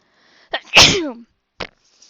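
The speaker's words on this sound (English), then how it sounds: "I'm about to sneeze." A single sharp, close sneeze with a quick inhale before it and a short sniff after, otherwise quiet.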